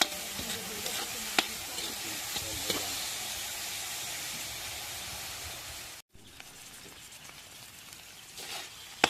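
Pancit noodles are stirred and tossed in a hot pan at a provincial home kitchen, giving a steady close sizzle and hiss with soft scraping stirs, a brief break, then frying continues.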